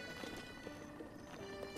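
A horse in Zelda Breath of the Wild clip-clops with soft hoofbeats and a faint whinny under steady game ambience, quiet and brief.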